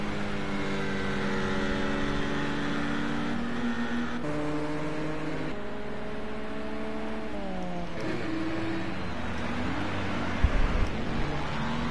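GT4 race cars lapping the Catalunya circuit in a racing video game, their engines droning and shifting pitch steadily throughout with layered harmonic whine, a brief sharper thump near the end.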